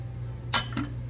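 Spoon clinking against a bowl while white sugar is stirred into a dipping sauce of warm water, lemon juice and fish sauce, two short close metallic clinks over a low steady hum.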